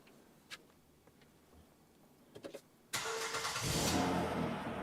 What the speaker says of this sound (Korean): 따따라라따 시동 걸어볼까요?